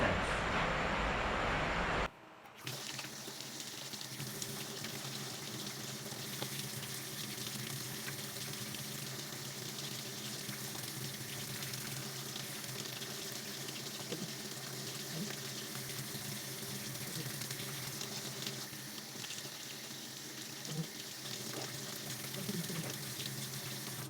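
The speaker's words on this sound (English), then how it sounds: "we will be washing our hands for us to deter the spread of microorganisms" Hands are washed under a running tap during a newborn care demonstration, starting with a brief loud gush, then a steady, close stream of water running continuously with faint movement underneath.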